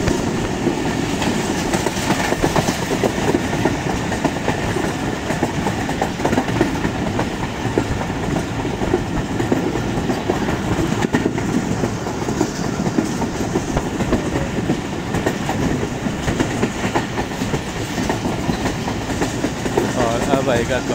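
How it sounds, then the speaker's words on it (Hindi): Jaffar Express passenger train running on the Lahore to Gujrat line, picking up speed after passing a station: a steady, loud rumble of wheels and rail clatter that continues unbroken throughout, with no talk. "सादों की रेलवे स्टेशन क्रॉस करने के बाद ट्रेन में एक बार फिर से स्पीड होती है।"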